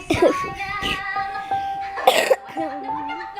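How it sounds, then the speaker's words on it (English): A person coughs a few times in short bursts, close and fairly loud, with other voices talking around it and a faint tonal background sound. "I'm just coughing a little bit."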